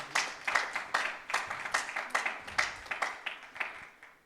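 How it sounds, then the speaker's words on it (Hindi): A church congregation claps in a steady, rhythmic beat, about two claps per second, moderately loud and without talk over it. "ताली जाके प्रभु का धन्यवाद करो"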